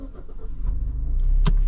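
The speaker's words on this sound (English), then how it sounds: "Start your car." A car engine cranks and catches at the start of a driving test, rising into a steady idle that stays loud and close, with no talking.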